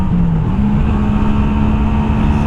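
A Honda Shadow 125 motorcycle engine hums steadily while riding, with a rising tone as it pulls through a gear change; the drone stays close and continuous over road and wind noise.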